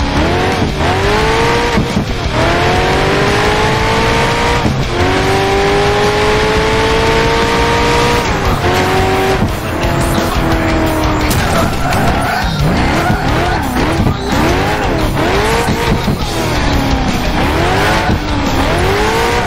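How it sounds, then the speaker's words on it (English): Cars race in an arcade-style Xbox 360 racing video game, with engines roaring and revving continuously and tires repeatedly screeching through skids, loud and close with no talking. "definitely one of the funner series of racing games"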